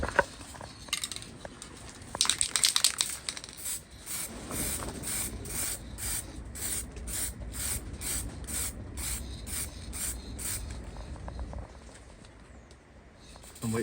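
Aerosol can of clear lacquer spraying onto a cleaned, scratched car headlight in a long run of short hissing bursts, close and steady, with a stronger blast early and the can falling silent near the end.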